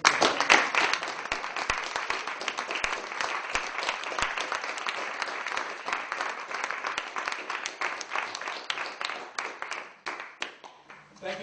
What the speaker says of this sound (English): let's just give them an applause.